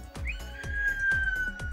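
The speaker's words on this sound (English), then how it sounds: "There's the whistle." A long, steady referee's whistle blast starts a pony ball match, with a rhythmic series of thumps repeating underneath.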